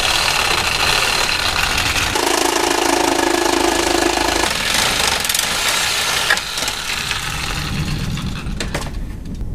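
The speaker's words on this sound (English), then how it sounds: "I'm just going to use a Sawzall straight across" A Sawzall reciprocating saw with a steel blade cuts straight across the plastic grille of a 4th-gen RAM 1500 truck, loud and close with a rapid chattering buzz that eases off near the end.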